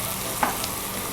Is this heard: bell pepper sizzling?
yes